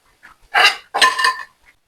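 Metal scrapes and clinks as fried potato smileys are lifted out of hot oil, two short close bursts with faint taps before and after.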